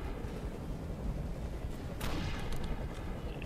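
Dense, continuous rumbling blasts and gunfire from a game, with a sharper explosion burst midway, loud and unbroken.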